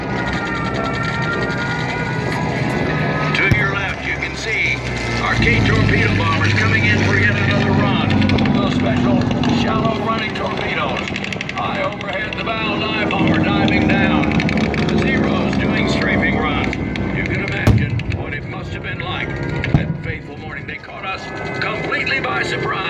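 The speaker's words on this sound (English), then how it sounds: "finding all the marauding Japanese Zeros. The Zeros start shooting them down, one after one" Vintage WWII Japanese Zero warplanes fly low over the field at an airshow Pearl Harbor reenactment, a loud continuous rumbling engine drone that swells and fades as aircraft pass, mixed with a crowd and an announcer talking throughout.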